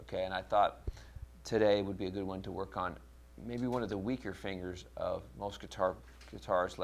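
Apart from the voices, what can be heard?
None of the usual background noises is heard.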